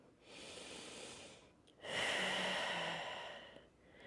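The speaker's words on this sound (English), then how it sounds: "Some belly breaths" Deep belly breathing during a yoga session: one long slow inhale followed by a louder, fuller exhale, close and alone with no talking.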